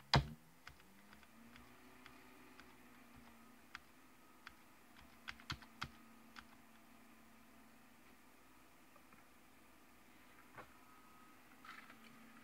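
Keystrokes on a loose keyboard of a Dell Dimension 8400 desktop computer, sparse scattered clicks and taps spread across a quiet room with a steady low hum underneath, no voices.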